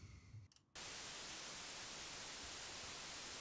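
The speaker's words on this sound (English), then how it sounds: "To our ears, white noise seems relatively bright." A white noise test signal switches on abruptly after a brief moment of quieter sound and then holds as a loud, even, bright hiss to the end.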